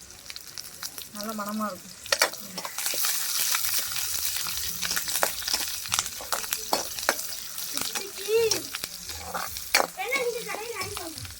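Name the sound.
curry leaves with stalks sizzling in hot oil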